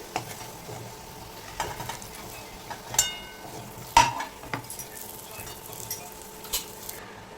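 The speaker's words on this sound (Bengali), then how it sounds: "আলুগুলোকে লালচে করে ভেজে নিয়েছি এবার আলুগুলোকে তুলে রাখছি" Potatoes frying in oil and being lifted out of the pan: a gentle, continuous sizzle with occasional clinks and scrapes of a utensil against the pan, a sharper metallic tap near the middle, no talk.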